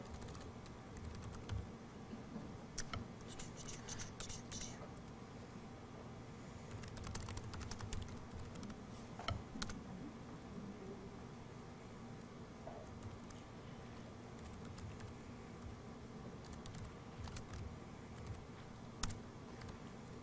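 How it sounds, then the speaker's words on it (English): Fingers type quickly on a computer keyboard, producing soft, irregular bursts of key clicks in a quiet room, faint and close. "I can type."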